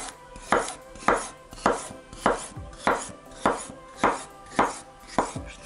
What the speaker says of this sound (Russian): И нарезаем теперь огурчик вот так красивыми